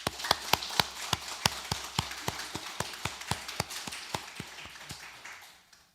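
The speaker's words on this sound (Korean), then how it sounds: "모든 선생님들에게 뜨거운 격려의 박수를 보냅시다" A church congregation claps for its teachers in steady, even beats, about four per second, moderately close and free of talk, then fades away toward the end.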